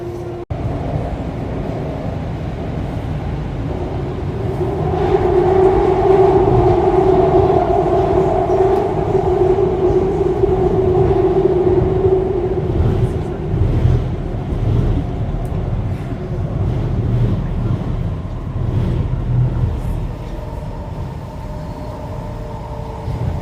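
Interior of a Vancouver SkyTrain carrying airport passengers, with a steady low rumble and rising electric motor whine as the train speeds up, then rattling and rolling noise as it cruises on.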